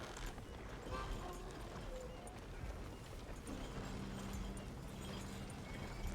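Horse hooves in Red Dead Redemption 2 clop faintly and irregularly as the horse turns, under a dense, noisy game background.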